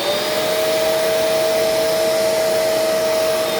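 A Bissell Pet Hair Eraser Turbo Plus vacuum cleaner runs in a living room with a loud, steady motor roar and a high whine held throughout, close and unbroken, with no talking.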